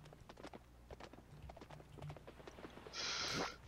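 Horse hooves clip-clopping in the Roblox video game, a steady run of light rhythmic hoof taps, quiet and close, ending in a brief burst of bright hissing noise.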